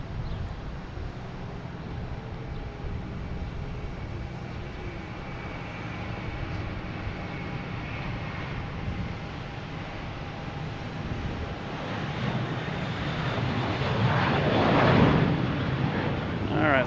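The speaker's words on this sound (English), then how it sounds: "I'll get this JetBlue taking off first" A JetBlue airliner takes off at Boston Logan Airport, its distant engine roar rising gradually toward the end, with a voice talking over it.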